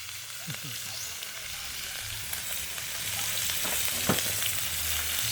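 Onion frying in oil, a steady hiss and sizzle with a few occasional clicks, moderately quiet and close, with faint voices in the background.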